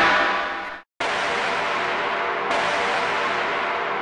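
Crash cymbal at its normal pitch, a loud bright wash that decays and cuts off, then a second crash strikes and rings on steadily at full level.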